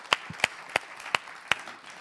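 Scattered handclaps from a TV debate show audience, about five or six sharp claps spread over two seconds, fairly close and without speech.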